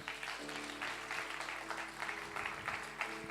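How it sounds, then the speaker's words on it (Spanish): A church congregation applauds during a Spanish-language sermon, a moderate wash of clapping over a steady low hum, somewhat distant. "Dale un aplauso a Jesús."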